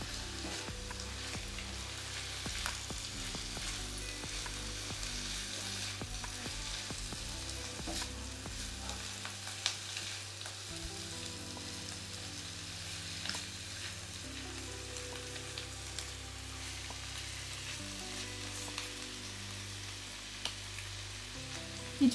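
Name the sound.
stirring bean and eggplant curry frying in pan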